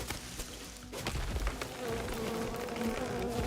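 Bees buzz in the video game Len's Island, a continuous insect drone close by with sharp little game clicks and thumps scattered through it.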